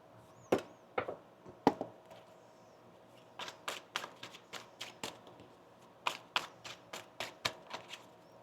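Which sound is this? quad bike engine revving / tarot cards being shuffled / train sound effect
tarot cards being shuffled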